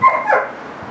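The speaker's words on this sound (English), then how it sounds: "The stupid dogs next door shut up." A neighbouring dog gives a single short bark or yip, fairly close and clear, fading quickly into quiet.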